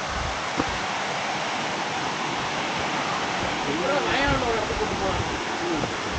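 Steady, full rushing roar of Suruli waterfall fills the whole stretch, unbroken and close, with a faint murmur of voices rising briefly toward the end.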